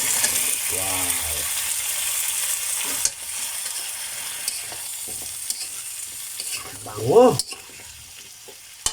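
Vegetables sauté in a frying pan with a soft, steady sizzle, broken by a couple of scraping stirs of a utensil; a voice speaks briefly.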